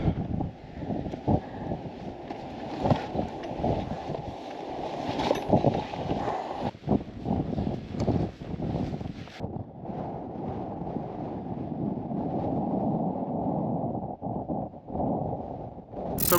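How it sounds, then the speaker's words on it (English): Strong wind on an exposed hilltop near Three Shires' Head buffets the microphone, a loud, continuous roar with gusty surges and no voices. "It is very windy."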